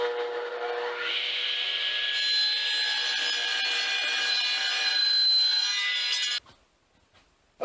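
Steady, continuous sawing through wood with a high, ringing blade tone, running for several seconds before cutting off abruptly into near silence.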